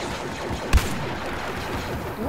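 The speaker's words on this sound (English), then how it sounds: "you get one shot with this sort of sniper rifle" A single sharp sniper rifle crack rings out in Star Wars Battlefront, standing out loud and brief against a busy backdrop of continuous battle noise.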